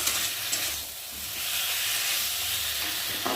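Katla fish masala being stirred as it fries in oil in a pan, a dense close sizzle and hiss with soft scraping from the stirring and no talking.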